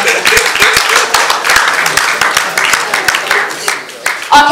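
An audience claps in a dense burst of applause that gradually thins out, with a voice briefly breaking in at the end.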